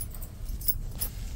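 Newly cut ignition keys jangle softly during a 1992 Ford 600 ignition switch repair, a few faint metallic rattles over low background rumble.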